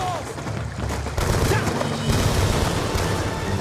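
Rapid bursts of automatic gunfire and booming shots crackle through a Call of Duty Black Ops 2 firefight, dense and loud, growing heavier after the first second, with shouted voices mixed in.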